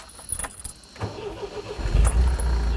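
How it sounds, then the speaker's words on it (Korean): A 1980 MGB convertible sports car, a US-market model, starts up: quiet clicks and rustling first, then the starter catches and the engine fires into a close, rising rumble that settles into a steady idle. "자, 시동을 한번 걸어볼까요?"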